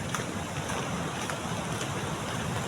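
Floodwater rushing over a bridge after heavy rain, a steady broad roar of flowing water with no break or pause and no talking.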